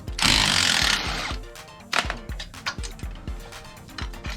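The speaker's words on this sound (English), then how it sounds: "You can buy yourself one of these little electric impact wrenches." A small electric impact wrench removes caliper bolts on the front end of a Can-Am X3 MAX, giving a loud burst of hammering followed by a series of evenly spaced clunks and rattles nearby.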